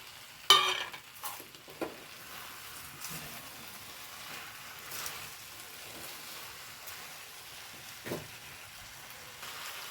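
Chicken kondattam with fried curry leaves and chilli being stirred and fried in a pan, a soft continuous sizzle punctuated by a few sharper clinks and scrapes of the spoon.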